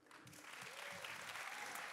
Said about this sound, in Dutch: Geef er een groot applaus.